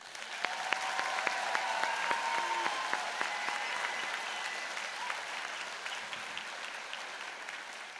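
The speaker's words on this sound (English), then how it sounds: "How about one more big round of applause?" A large crowd at a spring university convocation applauds the graduates, a long steady wash of clapping with some sharp nearby claps standing out and a faint tonal sound at the start, gradually easing off.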